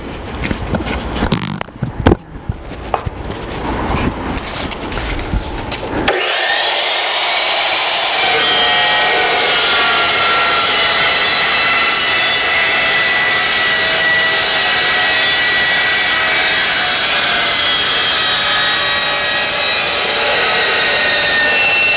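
An Evolution Rage 2 cold cutoff saw makes a thin cut: a few seconds of clunky handling noise, then a loud, steady high-pitched whine that holds unbroken for the rest of the cut.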